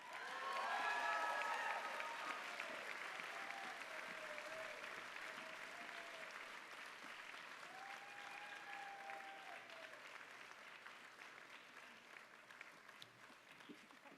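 An audience at a medical school commencement applauds, a dense, sustained round of clapping that starts strong and slowly tapers over its length, with faint voices and cheers mixed in.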